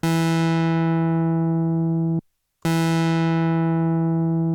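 A synthesizer note with a filter envelope sustains as a steady, harmonically rich tone that starts bright and gradually dulls, then cuts off briefly and is struck again with the same bright-then-mellowing character.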